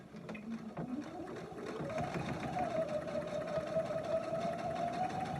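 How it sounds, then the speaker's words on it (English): Sewing machine stitching a line down the heel of a quilted slipper, its motor whirring steadily as it speeds up after a brief start, close and continuous. "I like a nice line of stitching down the heel on each side. And of course, back stitch."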